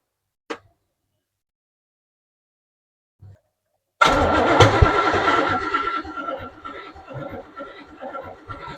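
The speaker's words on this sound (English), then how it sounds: "They're cranking off a long time to fire." A 350 V8 in a third-generation car cranks and catches, firing into a loud, rough running engine that carries on steadily near the listener after a couple of brief clicks in quiet.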